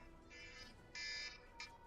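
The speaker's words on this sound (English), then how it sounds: "That's an alarm." An alarm tone going off during a game session, three short, faint electronic beeps with the middle one longest, heard alone over a quiet background hum.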